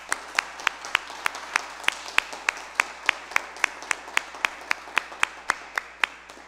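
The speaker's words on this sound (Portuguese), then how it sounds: "Uma salva de palmas." A church congregation at a ministerial confirmation in Ponta Grossa claps in an even, rhythmic beat, each sharp clap evenly spaced over a quiet background.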